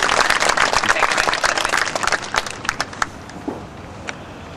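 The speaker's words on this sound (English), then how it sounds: "you can clap whatever you want" An audience claps for a marching band practice at an exhibition: a dense round of applause that thins over a few seconds into scattered single claps, with no voices.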